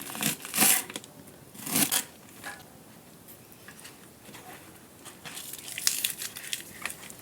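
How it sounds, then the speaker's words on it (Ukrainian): Kitchen scissors snip through the green part of a leek, giving a few crisp crunching cuts with short pauses and softer crinkly handling sounds in between, close up and with no talk. "Зелену частину можна нарізати за допомогою ножа, а можна це зробити кухонними ножицями."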